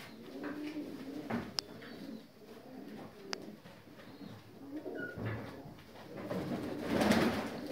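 North Caucasian fighting pigeons coo softly in a low, breathy murmur that continues throughout, with a few sharp clicks and a louder rustle near the end, as if from close by.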